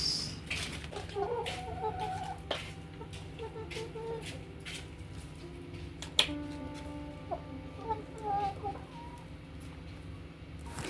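Semi-free-range chickens cluck and murmur close by in a backyard foraging area, with repeated soft clucks, scattered scratching and a few sharper calls over a quiet background.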